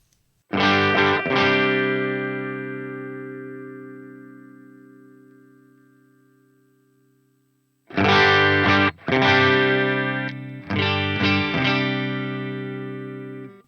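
A high-gain distorted electric guitar through a Line 6 POD Go rings out one long chord that fades slowly, then after a pause plays three loud chopped chord stabs, thick and saturated, no talking.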